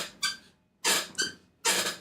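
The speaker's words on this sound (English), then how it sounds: "let me make some noise on the chair" Chair squeaking, three sharp high squeals in a row with short pauses between them, close and clear with no talking.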